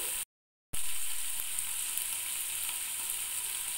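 Ginger, green chili and tomato paste frying in a pan over a low flame: a steady, close, even sizzle with a continuous hiss and no talking.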